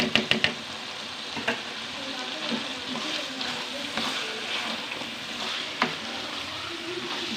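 Fried taro pieces tumble into a pan of frying eggplant for a spicy arvi baingan curry and are stirred. A steady oily sizzle runs throughout, with a few sharp utensil knocks at the start and occasional clinks later.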